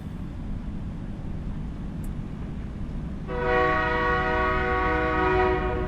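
A train horn sounds suddenly and keeps blowing loud and close over a steady low rumble of rolling railcars, beginning about halfway through, near a delivery stop in Louisiana.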